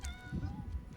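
A cat gives a short, close meow with a clear rising-and-falling tonal cry, followed by faint low rustling.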